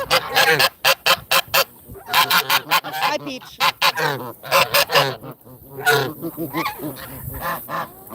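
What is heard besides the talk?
hybrid Canada goose honking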